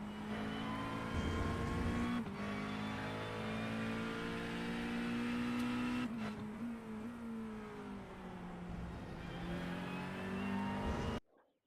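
A McLaren race car in iRacing runs a steady, droning engine with harmonic whine, shifting pitch with a couple of brief dips around gear changes, close and continuous until it cuts off abruptly at the end.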